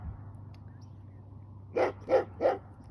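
A dog barks three times next door, sharp evenly spaced barks at moderate distance over a quiet low hum, with no talking.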